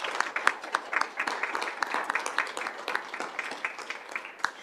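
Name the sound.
round of applause at a school board meeting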